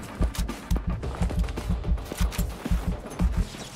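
Steady rhythmic video-game gunfire, a fast series of punchy low-heavy shots repeating at an even pace, close and loud with mechanical clatter between reports.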